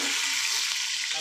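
Chopped onions fry in a pan for a desi-style chicken biryani, a steady, even sizzle crackling close by with no voices.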